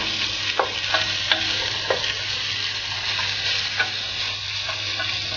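Sliced onion fries with browning veal in a pan, a steady close sizzle broken by occasional light clicks of a utensil stirring.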